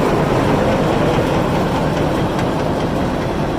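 A Carter Day 510 grain cleaner runs steadily, giving a loud, continuous low mechanical hum and rumble with no breaks, close to the machine.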